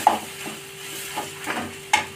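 Aloo bonda potato filling stirred in a pan, with soft scraping and light clinks at irregular intervals over a faint sizzle, close and quiet.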